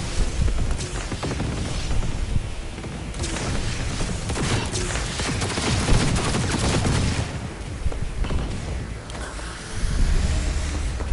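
Mortar fire and explosions in the game Cyberpunk 2077: repeated booming blasts and crackling bursts layered over a dense, loud battle din, with some brief speech.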